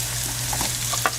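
A green chilli fries in hot oil while chilli chicken is being made, a close, continuous sizzle with a few brief stirring scrapes and crackles over a low steady hum.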